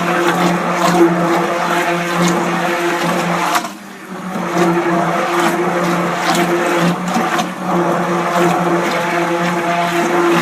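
Goat milk soap batter being mixed: a steady, loud motor whir with a humming tone runs throughout, dipping briefly a third of the way in before resuming at full strength.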